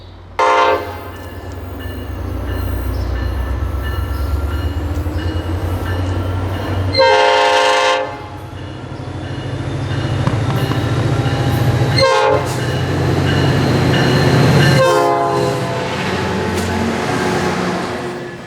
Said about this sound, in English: Tri-Rail P641 arriving at the Opelika Tri-Rail station on a very beautiful late spring evening in South Florida.